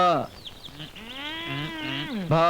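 A long, wavering animal bleat rises and falls for about two seconds, loud and close, followed by the start of another call.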